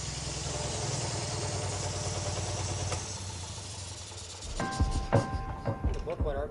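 A Centurion tank engine, not run for over twenty years, idles with a low, steady, rumbling drone for about four seconds, then fades under voices and scattered clatter.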